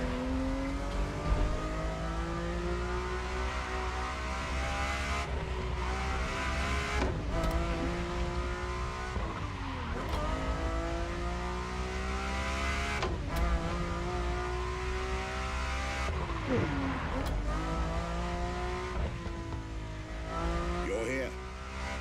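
Ferrari F40 and F50 engines in the racing game The Crew Motorfest rev loudly and close, rising in repeated climbs broken by sharp gear shifts, with a voice talking over them.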